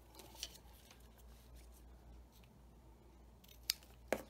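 Scissors snip through washi tape for a tea journal page, two crisp close cuts near the end after a quiet stretch of faint handling noise, with no talking.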